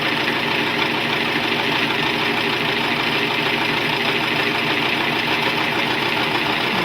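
A Singer Professional Five serger sewing machine runs at a steady pace, giving a continuous, even mechanical whir that holds at the same level throughout with no speech.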